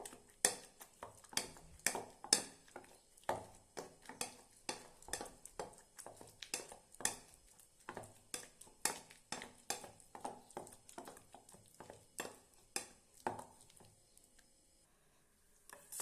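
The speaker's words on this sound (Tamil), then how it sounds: "நான் வந்து ஒரு மத்து வச்சதை அப்படி நல்லா மசிச்சு விடுறேன்." Repeated soft squelching thuds as roasted eggplant is mashed in a bowl with a masher, steady and close, with occasional scrapes of metal against the sides.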